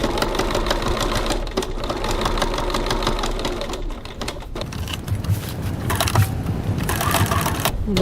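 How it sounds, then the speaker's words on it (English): A sewing machine runs continuously, stitching close to the window of a fabric bag in a dense, rapid chatter, with brief slowdowns for back stitches and no one speaking. "I'm stitching approximately 3 millimeters, 1/8 of an inch from the window"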